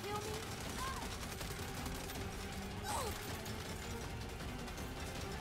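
Gunfire rattles from a vehicle-mounted turret in the video game Saints Row, dense and continuous within a busy mix of game noise, with people talking over it.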